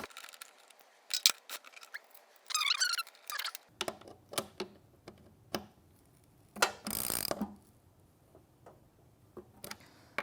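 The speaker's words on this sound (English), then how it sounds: "I'll take my socket or my wrench and tighten these down." A socket wrench ratchets nylock nuts snug while an Allegro Reformer's Konnector is assembled: bursts of quick mechanical clicking and metallic ticks, close up, separated by brief pauses and small handling clatter.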